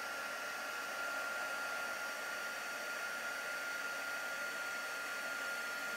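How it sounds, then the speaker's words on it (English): A heat embossing tool blows a loud, steady, hair-dryer-like whoosh without a break as it melts embossing powder on 3-D craft lettering. "I'm just going to heat emboss them. Just make sure every part is nicely heat embossed."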